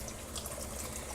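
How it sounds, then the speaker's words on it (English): Canned clams with their juice poured undrained into a pot of clam chowder, a steady close liquid splash and glug lasting about a second with no talk. "And finally, we pour in the clams. Don't drain it first."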